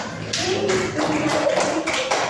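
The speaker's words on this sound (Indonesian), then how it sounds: "Tepuk tangan." Classroom group claps together in a short burst of applause, a dense patter of hand claps that swells and holds steady.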